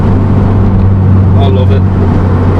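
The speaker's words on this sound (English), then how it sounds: "That is a Jay's Racing exhaust. It sounds mint." Car fitted with a Jay's Racing exhaust, a steady loud low rumble at idle or light throttle, close by, with faint background voices.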